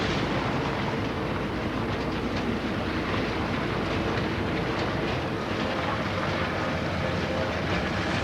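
Sunlander sleeper passenger train running overnight between Rockhampton, Townsville and Cairns, a loud steady rumble and rattle of the carriage on the rails, with continuous clickety-clack and no voices.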